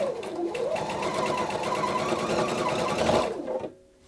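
A Pfaff Quilt Expression 720 sewing machine stitches a seam in a steady, close mechanical whir that runs about three and a half seconds before stopping abruptly.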